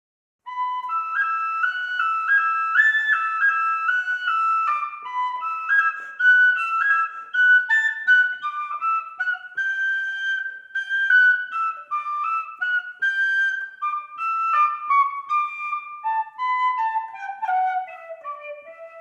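A tin whistle plays part 2B of Morrison's Jig, a lively run of clear, bright notes with quick cut ornaments separating repeated notes, played solo and steadily for about nineteen seconds with no talking.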